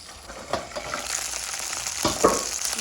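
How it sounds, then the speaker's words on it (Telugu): Green chillies sizzle and crackle in hot oil in a pan, a steady close frying hiss with occasional sharper pops and stirring scrapes, and no talking. "ఈ విధంగా వేగాలి పచ్చిమిరపకాయలు"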